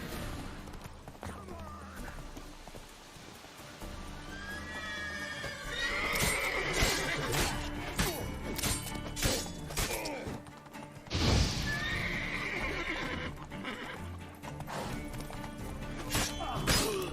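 Horse neighs and hoof clip-clops in The Witcher 3: Wild Hunt, with a whinny standing out over game ambience, a sharp crash-like hit near the middle and busy background sound throughout.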